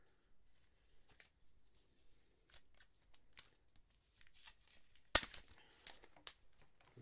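A paper setup guide is slid out of an Apple TV box, producing faint, close papery rustles and soft scrapes, with one sharper crinkling burst near the end, in a quiet room without talking.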